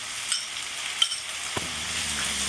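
Spice paste sizzles softly as it fries in a pan for potoler dorma, a Bengali stuffed pointed gourd dish, with a few light scrapes from stirring over the steady, quiet hiss.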